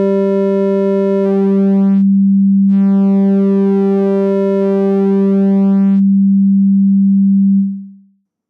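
A synth VA Oscillator holds a steady sine tone while a shape parameter morphs it from a pure sinusoid toward an alternating sine shape, bright harmonics appearing and vanishing over it, loud and alone before fading out.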